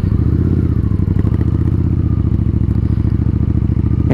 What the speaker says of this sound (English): Let's see how fast we can go in first gear.